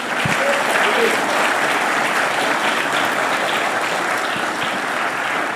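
A church congregation applauds during a morning worship service, dense steady clapping filling the room throughout, with faint voices mixed in.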